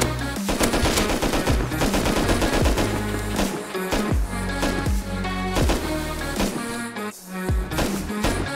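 Relentless automatic gunfire in the video game Rust, rapid bursts and sustained rattling shots close and loud for several seconds with only brief gaps.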